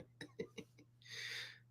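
Several short dry coughs in quick succession from one nearby person, then a longer breathy hiss-like exhale.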